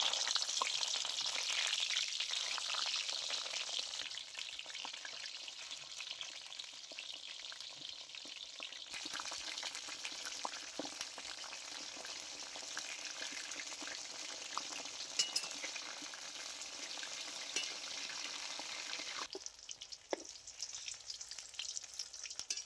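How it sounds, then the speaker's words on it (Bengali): Banana-leaf wrapped bhetki fish frying in hot mustard oil, a steady loud hiss of sizzling that drops slightly in level midway, with occasional faint clinks and no talking. "এবারে আমি এগুলো তেলের মধ্যে একটু সময় নিয়ে খুব ভালো করে ভেজে নেব।"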